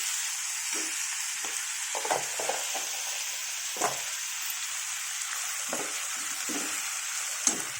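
Tomatoes fry in a pan with a steady, moderate sizzle throughout, broken by a few soft stirring taps and scrapes, and no one talks.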